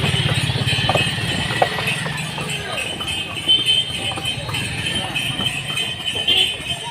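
Hooves of a horse pulling a cart clip-clop along a road at Palani, a rhythmic, moderately close clatter mixed with traffic hum and people talking nearby.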